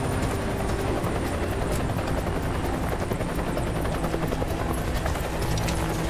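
A helicopter's rotor thumps steadily and loudly nearby, a continuous pulsing roar with no voices.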